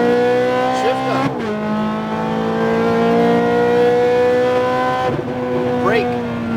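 Ferrari F430 on a racetrack, engine note rising steadily under acceleration with a clear upshift near the start and another just after five seconds, loud and close throughout with a voice talking over it.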